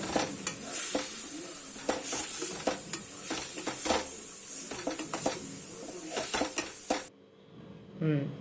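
Ground spice powders — coriander, chili, turmeric and garam masala — stirred and sizzling in a pan for a chicken liver curry, with steady scraping strokes over a continuous fry that cuts out near the end.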